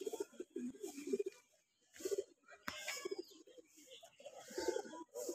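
Racing pigeon cooing nearby in short repeated bursts of soft throaty coos with brief pauses between, plus a few sharper sounds, no talking.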